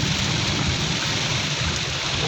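Very heavy rain pours down steadily in a dense, loud hiss on surfaces during a storm, continuous and close with no talk.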